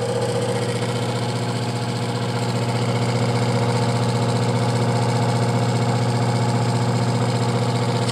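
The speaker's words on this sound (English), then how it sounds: "This is a lot bigger pump than the one I had before." A larger pump runs on a magnetic heater prototype with a loud, steady mechanical hum and fine rhythmic vibration, holding constant and close throughout.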